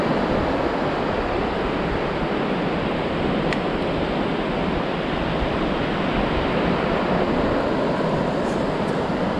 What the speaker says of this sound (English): taking you out with those waves